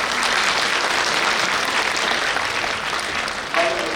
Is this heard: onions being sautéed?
no